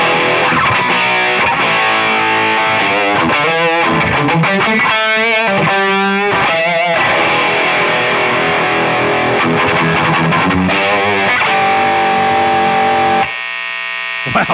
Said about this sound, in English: I've never heard a Klon dimed on all the knobs